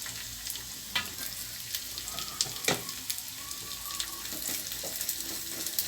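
Grated coconut and raisins frying in a pan for a Chettinad ukkarai sweet give a soft, steady sizzle. Faint stirring scrapes and clinks sound throughout, with no talk.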